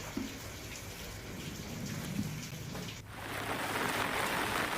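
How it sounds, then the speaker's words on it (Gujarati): Light drizzle falling in Porbandar, a steady soft hiss of rain with scattered drops, slightly louder and denser in the last seconds, with no voices. "જિલ્લાના ઘણા ભાગોમાં ધીમી ધારે વરસાદ થયો"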